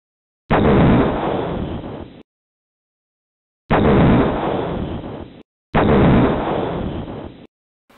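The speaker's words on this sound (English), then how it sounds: "Now we have a bang, but I want to see explosions also." Three synthetic explosion booms from a simple computer game built with the Jypeli library, each a loud burst that decays over about a second and a half before cutting off abruptly, separated by silence.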